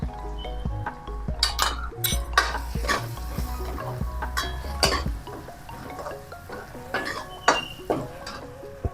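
Grated dry coconut being sautéed in a pan over low heat, with a spoon scraping and clinking against the metal in frequent stirring strokes over a gentle sizzle, close up and with a low hum underneath for the first half.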